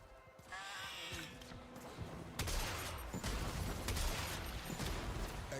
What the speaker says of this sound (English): the distant sound of gunfire